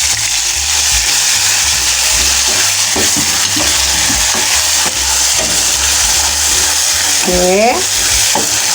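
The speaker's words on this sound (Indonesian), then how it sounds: "Kita tumis dulu bawang yang sudah kita ulek dengan cabenya." Ground shallots and chili paste for sambal rimbang fry in hot oil, a loud constant sizzle with stirring scrapes throughout, and a brief spoken word near the end.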